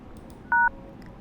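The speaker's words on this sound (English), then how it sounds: "After the tone, say your name and then press the pound key" A single two-tone keypad beep on a conference call phone line, brief and clear, standing out over a low steady line hiss.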